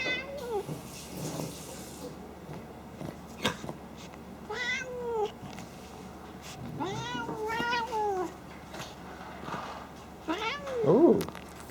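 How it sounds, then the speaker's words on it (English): A cat makes repeated piglike snorts and meows, several short bursts spread across the clip, with someone talking softly over quiet room noise. "The snorting piglet kitty."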